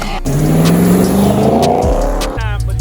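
A Dodge Scat Pack accelerates hard, its engine note climbing steadily in pitch before a quick shift and renewed pull, loud and close, with a brief tire chirp.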